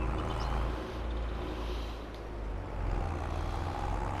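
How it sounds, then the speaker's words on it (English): A loud, continuous low engine rumble of a tractor in the video game Farming Simulator 22, steady throughout with slight swells in intensity. "Love the sound of this tractor."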